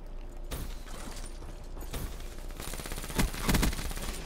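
Submachine guns fire in a video game SMG challenge match: several quick bursts of rapid shots, louder toward the end, over a fairly quiet background with no speech.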